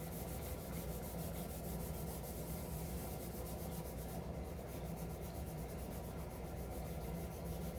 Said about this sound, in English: I'm smoothing out the charcoal.